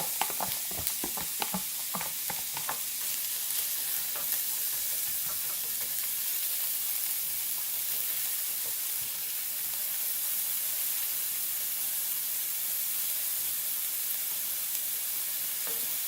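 Onions searing in olive oil in a pan for sweet potato tacos, a loud bright sizzle with a few stirring knocks at the start, settling into a continuous close-up hiss.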